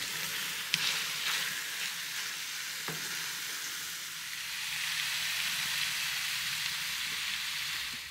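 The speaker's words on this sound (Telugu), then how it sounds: "చికెన్ అలా వేగుతూ ఉంటుంది" A whole chicken fries in a pan on medium flame for an Indian-style curry, giving a continuous even sizzle with a couple of faint clicks and no talking.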